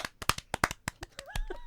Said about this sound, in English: I haven't had that many claps in this room in a while